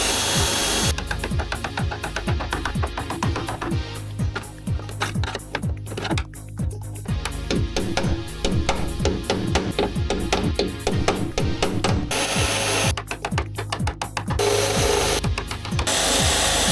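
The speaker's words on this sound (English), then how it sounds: "time for me to start drilling these out." Power drill with spot-weld bits boring out factory spot welds on a Porsche 996 body, a steady loud grinding whine with repeated short bursts and brief pauses, no talking.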